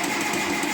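A 1958 Oliver 550 diesel tractor engine turning over, a steady dense mechanical churn filling the short moment without pause.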